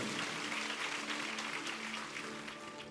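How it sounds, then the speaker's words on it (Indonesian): Church congregation applauding during a Sunday worship service, a steady wash of clapping throughout with faint sustained music tones underneath, fading slightly toward the end. "mari kita berikan tepuk tangan sekali lagi buat Tuhan kita"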